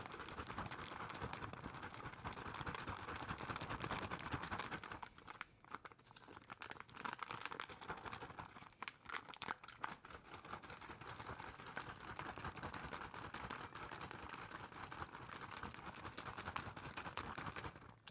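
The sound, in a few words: shaking a zipped MRE pouch to mix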